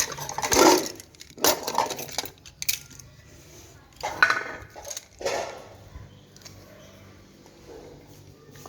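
Spoons and dishes are handled and put away in a home kitchen, with several separate clinks and clatters of metal and crockery, close and moderately loud, followed by quieter handling.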